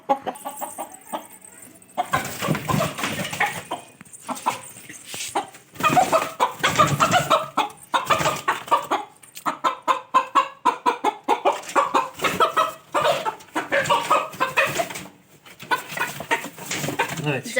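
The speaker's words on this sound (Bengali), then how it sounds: "খুব বড় আর হিংস্র মোরগ।" A large, aggressive Kadaknath rooster clucks and squawks in repeated agitated bursts while being caught with a big net, the loud, close calls alternating with scuffling and some human voices.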